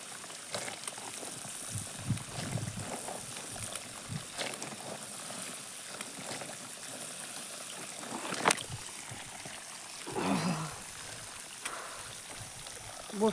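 Water trickles and splashes from a burst pipe in a Himachal village, a steady low liquid hiss with a few louder gurgling bursts near the end.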